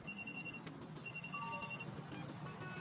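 A cell phone rings with a steady electronic tone repeating in short pulses, moderately loud over a faint background, with no one talking.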